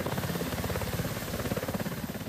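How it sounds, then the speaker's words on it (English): A Coast Guard helicopter flies overhead during a search over water near a pier, its rotor beating in a fast, steady rhythmic thud. The sound is moderately faint and distant, with no voices. "This morning, the Coast Guard helicopter was called out to survey the area."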